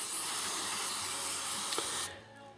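A steady hissing spray of cleaner onto a chainsaw, lasting about two seconds, close and loud, then cutting off abruptly.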